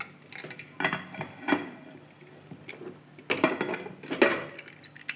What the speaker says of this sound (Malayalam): അപ്പോൾ ഗൈസ് നമുക്ക് കുക്കർ തുറന്ന് നോക്കിയാലോ